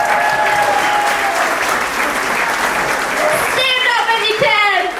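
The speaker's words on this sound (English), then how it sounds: "Let's give a round of applause for my Uncle Neil, the best man!" Wedding guests applaud the best man with loud, sustained clapping filling the whole stretch, and voices rise and cheer over it toward the end.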